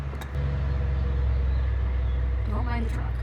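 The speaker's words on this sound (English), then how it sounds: "Don't mind the truck." A truck passes nearby outdoors, giving a deep steady rumbling engine drone that swells and holds, with a few brief higher squeaks near the end.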